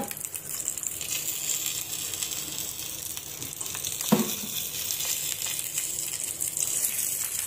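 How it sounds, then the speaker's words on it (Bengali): Chili and onion fry in a pan in a home kitchen, giving a soft, continuous sizzle at moderate distance. One brief clatter comes partway through. "এখন মরিচ আর পেঁয়াজ ভাজি করে নিব।"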